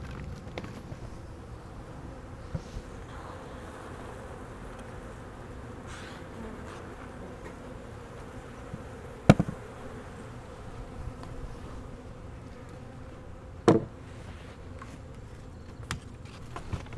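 A soft, steady honeybee buzz hums around a hive throughout, with a couple of sharp knocks and scraping clicks standing out nearby.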